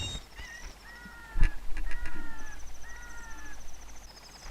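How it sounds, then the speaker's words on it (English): A pet cat named Fuchsia meows several times indoors in a bedroom, drawn-out tonal calls recurring across the moment, fairly faint with background room noise. "Fuchsia's meowing at me right now"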